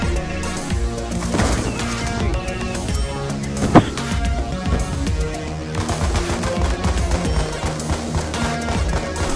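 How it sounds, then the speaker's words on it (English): Light machine gun fire in Call of Duty rattles in dense, continuous bursts with one sharper crack standing out, all over a busy wash of game noise. "I hear him with the light machine going"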